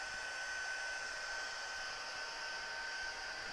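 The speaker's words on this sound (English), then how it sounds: "Now I'm going to go over here and I'm going to blow dry it." A hair dryer blowing hot air over a surface to dry it, a steady close-up whooshing hum that runs unbroken throughout with no talking.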